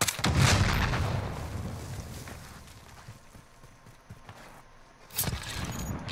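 An AK rifle fires in a video game, with a loud sharp shot at the start that fades into a decaying tail, then a quieter stretch before a second crack near the end.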